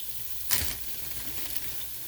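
About a pound of ground hamburger meat sizzles in a soup pot: a steady, faint frying hiss with a brief louder burst as the meat drops in, and no talking.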